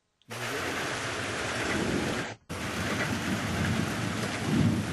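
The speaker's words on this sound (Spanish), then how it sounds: "Vamos a buscar, por ejemplo, un sonido que se llame lluvia, que queremos utilizar después para nuestra historia." Recorded rain sound effect from a media library, a steady dense hiss of heavy rainfall with a low rumbling undertone, loud and continuous, cutting out briefly midway before resuming.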